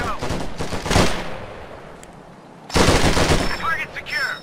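A rifle squad opens fire in Company of Heroes 2, with rapid bursts of rifle and machine-gun fire in two loud volleys separated by a brief lull, under occasional voices.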